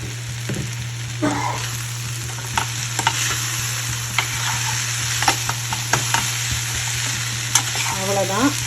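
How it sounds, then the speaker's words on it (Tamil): Mango pickle being stirred in a hot pan, with soft sizzling and scattered scrapes and clinks of the spoon over a low steady hum of the stove. "சேர்த்துட்டு நம்ம அப்படியே கிளறி விட்டுக்கலாம்."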